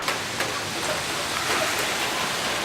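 Heavy rain pours down in a dense, steady hiss that stays even and close throughout, with no other sounds standing out.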